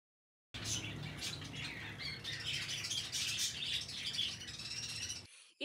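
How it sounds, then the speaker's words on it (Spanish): Turtle doves bought at market shuffle and scratch inside a box, with soft chirps, flutters and pattering movements heard close up for several seconds before abruptly stopping. "Aquí en esta caja están las tórtolas que yo compré."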